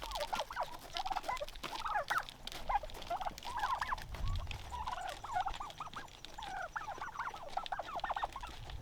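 Heritage breed and bronze-breasted turkeys feeding on pellets in grass, a busy chorus of overlapping clucks and chirps with soft pecking and rustling throughout.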